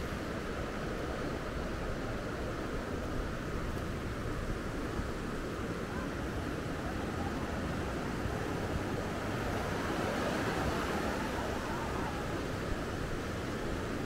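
Steady broadband roar of sea waves washing onto Cảnh Dương beach in Phú Lộc, Thừa Thiên Huế, heard at night on a rough day, continuous and fairly even with no clear individual breaks.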